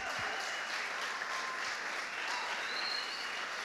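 Steady, moderately distant applause from a church congregation for the women leading a women's service, a continuous patter of many hands with no voices over it.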